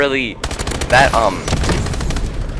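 The BAL-27 burst rifle fires in a shooter game as rapid clusters of sharp shots repeat over a couple of seconds, loud and close, while a person talks over the firing.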